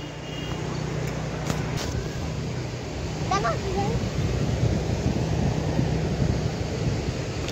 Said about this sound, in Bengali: এই দেখো, এই সমুদ্র আর এই দেখো ল্যান্ডটা একসাথে মিশছে, এন্ডটা দিস ইজ কোস্ট এরিয়া